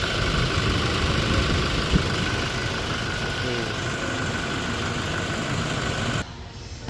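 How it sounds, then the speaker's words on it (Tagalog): A Toyota Innova 2.8 diesel engine idles steadily nearby with a constant low rumble, cutting off abruptly near the end. "Tingnan natin muna yung tunog ng makina bago natin umpisahan po"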